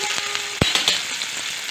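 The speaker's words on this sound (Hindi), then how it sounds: "अब ये देखें अदरक लहसुन का पेस्ट मैंने डाला था बीच में, तो ये हल्का सा फ्राई होना शुरू हो गया।" Ginger garlic paste frying in a pan for chicken, a steady bright sizzle with a few sharp pops and spatters near the mic, no voices.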